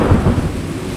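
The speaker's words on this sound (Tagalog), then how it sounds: "Ay, kusog ka yung ulan. Did you hear that?" Heavy rain pours steadily with a deep rumble of thunder rolling through it, loud and close throughout the short stretch on a rainy evening in Windsor, United Kingdom.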